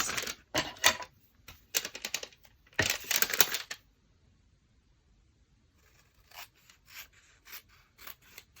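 Scissors trimming a paper window envelope for a junk journal pocket, a string of quick close snips and rustles, then a pause and fainter scattered cuts.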